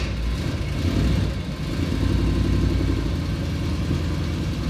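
A 1962 Chevrolet Impala engine fires up for the first time, settling into a steady, loud, close rumble that keeps up through the whole stretch with no talking over it.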